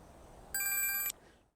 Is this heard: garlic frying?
no